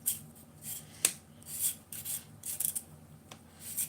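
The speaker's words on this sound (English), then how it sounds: "Then I'm just going to grate it in." A vegetable being grated by hand straight into a pot of soup, heard as a run of short rasping scrapes in an uneven rhythm, close by and fairly quiet, with no talking.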